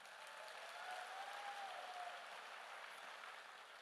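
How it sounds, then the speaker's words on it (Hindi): An audience at a motivational direct-selling talk applauds with a steady, dense patter of clapping that runs for a few seconds and holds an even level throughout. "अब मन कर रहा है तो ताली बजा लीजिए।"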